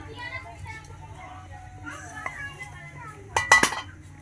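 A cooking pot lifted off a pan of hot water gives a few loud, close clinks and scrapes of metal near the end, after quieter kitchen clatter and some background voices.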